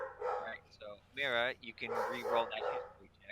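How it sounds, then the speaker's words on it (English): Dogs bark and yip close by in a few short, loud bursts, interleaved with and overlapping a person speaking. "yeah, I'm sorry about my dogs."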